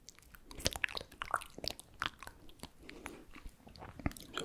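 Crisp bites and crunchy chewing of Easter chocolate, close to the microphone in an ASMR setting, a rapid series of sharp cracks and snaps that trails into quieter munching.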